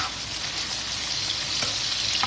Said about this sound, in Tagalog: Roasted lang natin ng konti yung bawang sibuyas na marami.